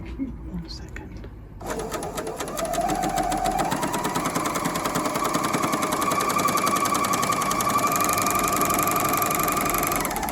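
An L460/L450 overlocker cutting and stitching a seam: a steady, fast mechanical whirring hum that starts abruptly after a brief quiet pause and runs continuously and close up, with a faint voice underneath.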